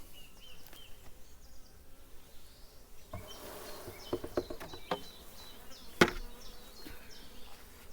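Honeybees shaken off a brood comb from the centre of the nest, young bees among them, give a soft, steady insect buzz throughout, with sharper knocks and rustles partway through and one loud bump near the end.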